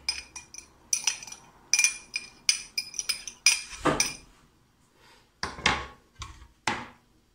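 A spoon clinks repeatedly against a container while stirring a mixture of cooking oil, chili, garlic and baking soda in water for a homemade pesticide, giving sharp, close, irregular taps with brief pauses.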